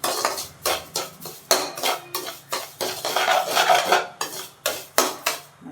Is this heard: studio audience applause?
no